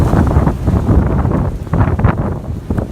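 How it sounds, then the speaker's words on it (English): Strong wind buffets the microphone with steady low rumbling gusts that swell and ease throughout, with no talking. "a little windy here"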